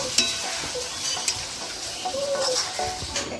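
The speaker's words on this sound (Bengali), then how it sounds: "এবার আমি চিকেন ম্যারিনেট করা ছিল, ওতে একটু জল দিয়ে আর দিয়ে দিলাম" Marinated chicken with a splash of water cooks in a pan for chicken kosha, giving a steady sizzle broken by a few sharp clinks and scrapes of stirring.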